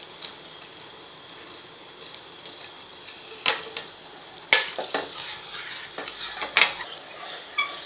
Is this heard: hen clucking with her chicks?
no